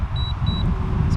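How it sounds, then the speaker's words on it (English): A DJI Mini 2 drone in return-to-home mode gives two short, clear high-pitched beeps against a steady background hum. "It's slowly beeping."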